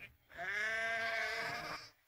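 A single sheep bleats once, a clear, sustained wavering cry lasting over a second, close and alone.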